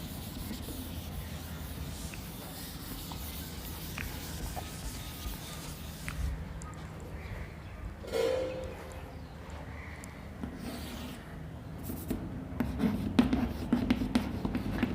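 Rough work being written on a board makes soft, scratchy strokes in irregular bursts, close and fairly faint, with small knocks and rustles between them.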